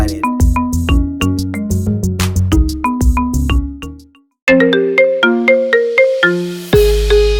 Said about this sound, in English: Download this awesome ringtone of Work to get everybody excited